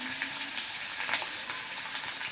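A spatula stirs a fresh coconut, cumin and coriander mixture in a frying pan, giving a steady, close sizzle with soft scraping strokes and no voices.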